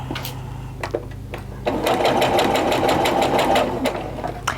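A sewing machine sews a straight seam down a quilt block, starting with a few slow clicks of the needle before running into a loud, steady, rapid stitching whir up close.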